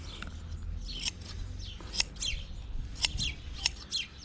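Shears snip steadily through sheep wool in quick repeated clips, close and crisp, over a low rumbling background.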